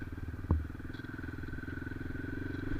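A motorcycle on an off-road route under cloudy skies, its engine holding a steady close rumble with a single sharp knock near the start.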